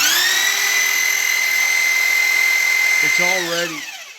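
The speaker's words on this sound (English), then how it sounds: "So it drills like 12 or 1300 RPM, and this is a 10-to-1 reduction" A drill driven through a 10-to-1 reduction gear runs with a steady high-pitched whine, then slows and winds down near the end, close and loud.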